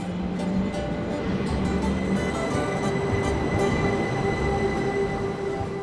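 A narrow-gauge train pulls into Arosa station, its steady rail rumble and wheel noise filling the scene with faint squeals and high tones throughout, loud and continuous, with no talk.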